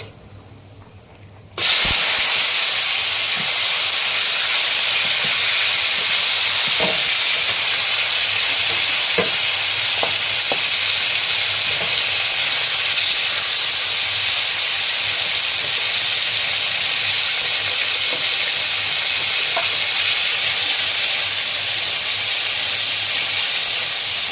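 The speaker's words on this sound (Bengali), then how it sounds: "প্রথমেই মাংসটা আমি ফ্রাই করে নেবো" Chicken mince fries in hot oil with turmeric in a kadai, making a loud, steady sizzle and hiss close up after a quiet start, with occasional stirring clicks and scrapes and no talking.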